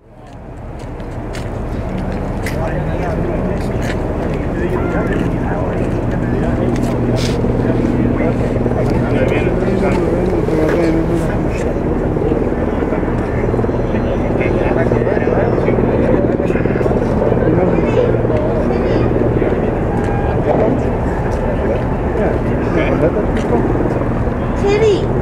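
The Marine One presidential helicopter's rotor and engine drone steadily and loudly throughout, with muffled voices in the background.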